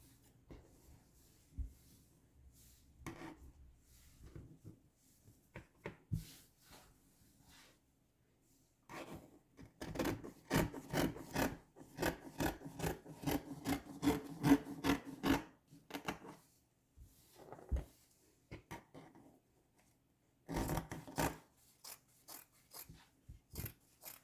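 Scissors cut through fabric for an A-line dress in bursts of crisp snipping and rubbing, close and fairly quiet, with pauses between runs of rapid cuts.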